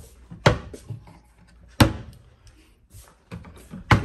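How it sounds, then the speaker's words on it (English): Doors in a hotel kitchenette swing shut, giving three sharp, fairly loud knocks spaced over a few seconds, with softer clicks and handling noises between them in a quiet room. "So close up these doors again."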